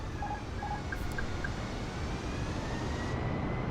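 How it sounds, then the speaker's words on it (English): Airliner engines wind down to idle with thrust reversers on landing in Microsoft Flight Simulator 2020, a steady broad rumbling drone joined by a few short tonal beeps early on. "I'm going to throttle it back and operate the reversers shortly."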